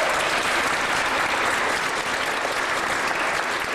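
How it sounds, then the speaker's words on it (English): Loud, dense audience applause at a charity wish event in Edmonton, a steady wash of many hands clapping close by without a break. "give them another big round of applause"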